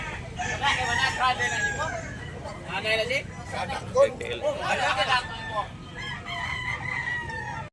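Roosters (stags) crow repeatedly at a busy Tabunok bird market, with several overlapping cock-a-doodle-doo calls and clucks ringing out over a steady background hubbub of people talking.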